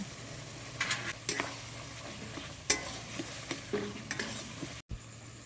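Spice paste for khichdi is fried in oil and stirred, giving a low continuous sizzle broken by repeated sharp scrapes and taps of a spatula against the pan, close and with no talking.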